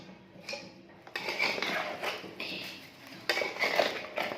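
A spoon scraping and clinking against a pot while curry spiced with garam masala is stirred, irregular metallic knocks and scrapes in short bursts, fairly quiet and close.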